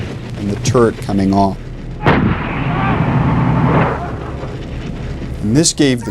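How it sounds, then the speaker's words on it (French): A tank blows up with its turret exploding: a heavy boom followed by a sustained roaring rumble of fire and debris, loud and close, framed by bursts of other sharp blasts. "explosion du char avec explosion de la tourelle"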